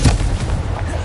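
A Confringo spell in Hogwarts Legacy goes off as a single short, heavy blast that booms briefly and then fades into a rumbling tail.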